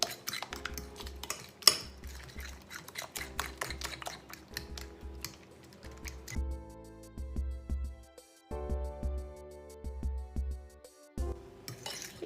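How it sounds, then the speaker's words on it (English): Eggs are whisked into a batter mixture in a bowl, giving rapid rhythmic clinking and tapping of a whisk in short bursts, close and fairly quiet. "Now we are going to add in our eggs. And then just whisk that all together."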